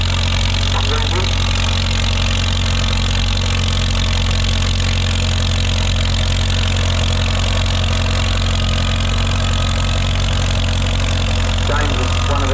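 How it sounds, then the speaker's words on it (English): A Farmall H tractor's four-cylinder overhead-valve engine, about 2.5 litres and running on kerosene, idles in a low steady throb at a vintage tractor pull practice day, with voices over the engine. "So the Farmall H, 4-cylinder, petrol kerosene, starts on petrol, runs on kerosene, 4-cylinder overhead valves"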